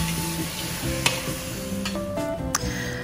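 Mint tofu vegetable fried rice with sesame ginger tofu and Maggi seasoning tossed in a hot pan, with steady close sizzling and a few scraping stirs and clinks across a few seconds.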